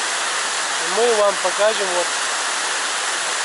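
A mountain river in Chechnya rushes with a steady, broad roar of flowing water, and someone speaks briefly over the constant noise.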